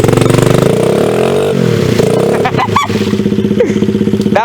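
Small pit bike engine revving hard in the rain, a loud buzzy rising and falling whine with quick throttle blips and some clatter, close by and continuous.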